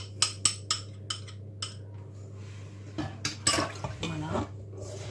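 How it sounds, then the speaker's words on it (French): Chocolate spritz cookie dough stirred in a bowl, starting with a few sharp clinks of a utensil against the bowl, then softer scraping and mixing, with a steady hum underneath and some speech. "je vais donc mélanger et faire une pâte, cette fois-ci, à spritz au chocolat"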